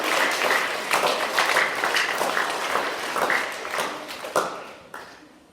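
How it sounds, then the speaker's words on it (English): Audience applause at a primary school presentation day, a dense patter of many hands for several seconds, fading out near the end. "Let's give them a round of applause."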